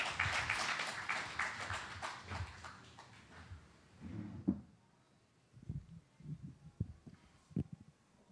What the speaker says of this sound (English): Please give a big round of applause to the panelists.